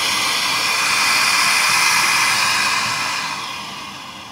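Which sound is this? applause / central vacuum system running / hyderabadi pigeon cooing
central vacuum system running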